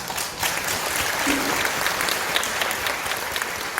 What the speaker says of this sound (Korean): 여러분 큰 박수 한번 해주십시오.